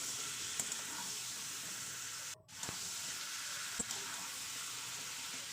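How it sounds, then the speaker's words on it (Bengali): Chicken meat sizzles in hot oil in a pan, a steady close frying hiss with a brief dropout midway and a few soft stirring knocks. "দেখতে পাচ্ছেন তেলে ফেলে ভেজে নিলাম"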